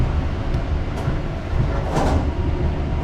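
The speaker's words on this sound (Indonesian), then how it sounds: "kereta api Progo diberangkatkan kembali dari stasiun Purwokerto" KA Progo economy-class train pulling out of Purwokerto station before dawn, a steady loud rumble of wheels and carriages with brief higher hisses and clatter rising around the middle, no voices.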